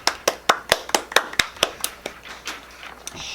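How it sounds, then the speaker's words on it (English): Applause for Miss Smith at a student news event, roughly a dozen sharp, separate claps in a steady rhythm, close and distinct, then thinning into lighter, scattered clapping at the end. "Let's give Miss Smith a round of applause."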